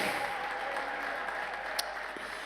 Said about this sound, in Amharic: እንደ ቃልህ አጨብጭቡ ለጌታ